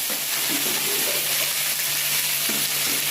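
Fish sizzles and crackles in hot oil, a dense, steady frying hiss with occasional faint clinks of a utensil.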